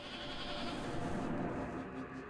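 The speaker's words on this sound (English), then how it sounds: "Good, we still got the goat noise." A goat bleats in the video game Little Goody Two Shoes, a single drawn-out nasal cry over a low rumbling ambience that fades near the end.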